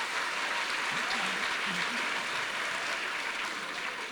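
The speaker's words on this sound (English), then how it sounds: "They're clapping at the fact that it's a rapid fire" Steady audience applause fills a hall at a Supreme Court conversation event featuring D.Y. Chandrachud, a dense, even wash of clapping held at full strength throughout with faint voices beneath.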